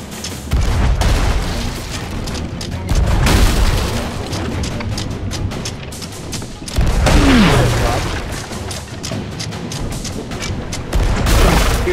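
Galleon cannon fire in a pirate video game, repeated heavy booms and rumbling volleys in dense bursts, loud and close, with people talking over the barrage.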